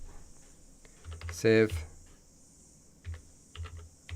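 Typing on a computer keyboard: a few short bursts of key clicks, close and fairly quiet, with a louder cluster near the start and scattered taps later over a faint steady background hum.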